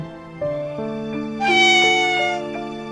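A cat meows several times, the calls rising into a louder, drawn-out wail midway before tapering off; close and clear with no talking.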